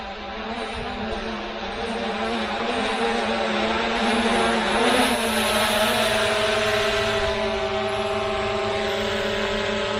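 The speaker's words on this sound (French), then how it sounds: "L'appareil revient à son point de décollage." A DJI Air 2S drone flies back toward its takeoff point, a steady propeller whine and hum that grows slightly louder and holds near, with no talk.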